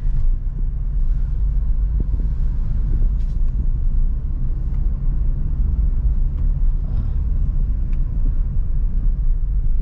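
Inside a moving Suzuki Ertiga, a heavy, steady road rumble from traffic with trucks nearby, low and droning throughout with faint wind noise and no talk.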